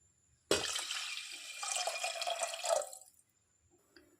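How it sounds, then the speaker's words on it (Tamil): Water poured from a tumbler into a pressure cooker pot holding varagu (kodo millet) rice and moong dal for pongal, a steady splashing pour of about two and a half seconds, close and alone, ending with a few drips. "1/2 டம்ளருக்கு நான் இங்கே 5 டம்ளர் தண்ணி சேர்த்துக்கிறேன்."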